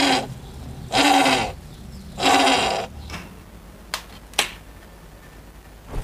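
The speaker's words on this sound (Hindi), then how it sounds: "तुझे मेरा बकरा नजर आया ब्लैक कलर का छोटा सा?" A small black goat bleats twice in loud, close, drawn-out cries on a street, followed by a couple of sharp clicks or snaps and quieter background noise.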